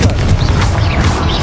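Confringo blasting spell detonating in the game Hogwarts Legacy: a loud, deep boom that rolls on for the full moment, with crashing debris-like texture and no clear talk.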